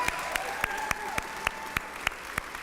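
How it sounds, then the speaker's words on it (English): A crowd at a Kentucky voting rally applauds, with steady clapping and a few sharp, close individual claps standing out in a regular rhythm. "Give them another applause."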